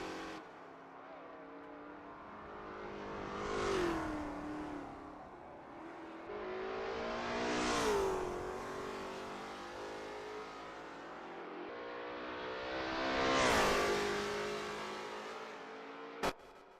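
Lola T70 MkII Spyder race cars warm up at Österreichring in a racing video game, engines revving loudly as three cars sweep past one after another, each roar rising and fading.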